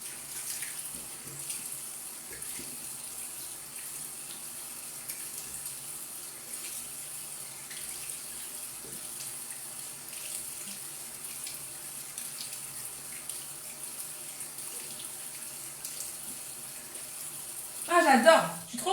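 Tap water runs steadily while a face cleanser is rinsed off, a continuous soft hiss lasting throughout with a louder splash near the end; a voice is faintly present.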